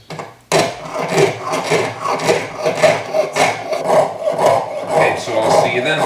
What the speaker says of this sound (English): I'll be cutting through this so you don't have to suffer through the sawing